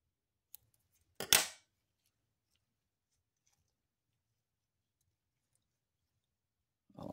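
Scissors snipping away excess liquid masking material from a model aircraft canopy, one short faint click followed by a single crisp, close cut, then quiet.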